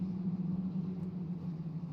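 Dirt rookie mini stock race cars at Oxford Plains Speedway rumble in a pack behind the pace car, a steady low engine drone that holds at an even level and sounds somewhat distant.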